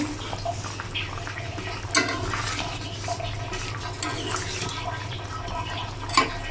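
Water boiling in a cooking pot on the stove while cooking potato and chicken khichuri, a steady bubbling hiss with a low hum underneath and a couple of sharper splashes, close and continuous.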